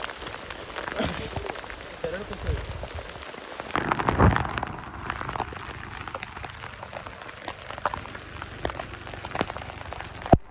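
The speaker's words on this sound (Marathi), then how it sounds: "आता पावसाला लय बेकार लागतोय." Heavy monsoon rain roars continuously, a loud dense downpour with a brief louder surge partway through.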